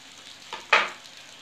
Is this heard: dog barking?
no